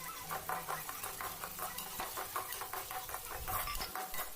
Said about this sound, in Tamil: நாம் சேர்த்துருக்க வெங்காயத்தோட கலர் நல்லா மாற வரைக்கும் வதக்கணும்